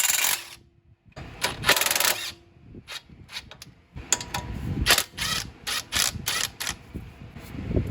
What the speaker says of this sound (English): I'm gonna just loosen this one, loosen the other one on the bottom, and then I'm gonna loosen this